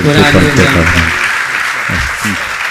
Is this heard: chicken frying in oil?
no